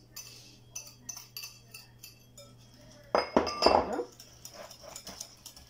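A spoon clinks against a bowl while muffin batter with honey is stirred, in light rhythmic taps that swell into a brief louder scraping flurry.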